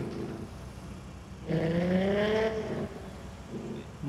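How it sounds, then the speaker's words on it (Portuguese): A Nissan GTR engine in the Car Parking Multiplayer 2 game revs hard in one rising burst after a quieter idle, climbing in pitch for about a second before dropping back, close and loud. "o som do GTR é um absurdo"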